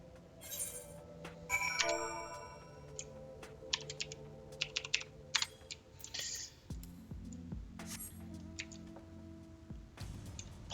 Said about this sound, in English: Apologize in advance, guys, for all the clickety clacketing.